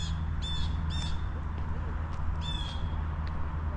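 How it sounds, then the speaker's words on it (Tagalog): A noisy bird gives harsh, squawking caw-like calls outdoors, three quick bursts over a constant low rumble of ambient noise. "Anong ibon yung maingay?"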